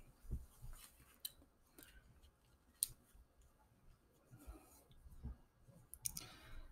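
Computer mouse clicks during a Sitecore 9.3 software install, a few sharp isolated clicks spaced seconds apart, quiet and close, with no talking.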